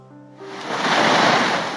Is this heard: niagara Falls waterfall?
yes